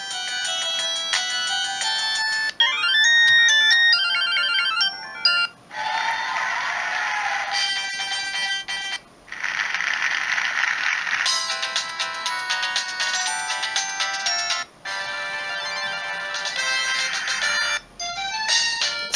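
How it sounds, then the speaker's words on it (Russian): Standard ringtones of a Samsung C200 mobile phone play one after another, loud, bright electronic melodies with brief gaps between tunes and no talk. "Стандартный набор рингтонов для Samsung тех времен."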